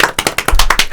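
A small studio audience claps in a brisk, close, loud burst of about eight sharp hand claps, with no voices over it.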